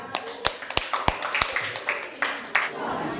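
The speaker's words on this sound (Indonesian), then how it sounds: "Aplaus untuk kelompok 3" Sparse applause breaks out in a classroom for a presenting student group, several sharp separate claps from a few hands close by, some overlapping, scattered across a few seconds.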